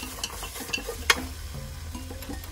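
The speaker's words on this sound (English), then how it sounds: "Stir them well in the pot, like this." A utensil stirs chicken with curry powder in a pot, producing soft scraping and light sizzling with one sharp clack of metal partway through, close and fairly quiet.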